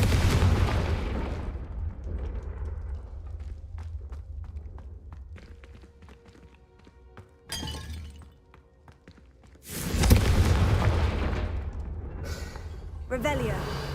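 Loud shattering bursts from Confringo spell explosions in the Hogwarts Legacy video game are heard at the start, around eight seconds and again near ten seconds, separated by quieter stretches of clatter and game sound.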